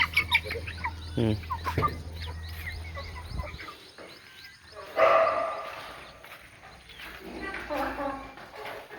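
Free-range local chickens on a farm, with scattered clucks and short squawks coming and going over several seconds, fairly close, mixed with a dog barking and someone talking.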